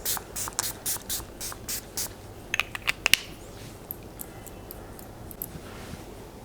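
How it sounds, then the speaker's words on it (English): A moisturizing face mist is sprayed onto skin in a quick run of about six short, sharp hissing pumps, followed by a few faint clicks and a quieter stretch. "Let me just spray this on my skin and show you."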